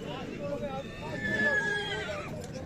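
A horse whinnies at a horse market in Nookat, a stretched call rising over crowd noise and nearby talk.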